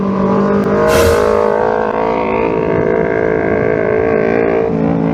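A loud Kawasaki Ninja motorcycle engine drones steadily, its pitch rising as it revs, close by and continuous with no talking.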